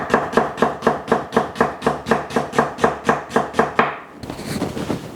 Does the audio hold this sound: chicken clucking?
no